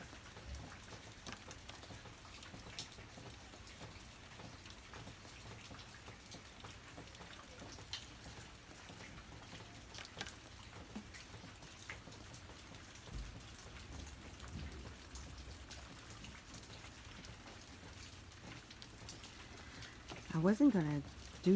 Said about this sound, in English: I can just sit in front of my window and listen to the rain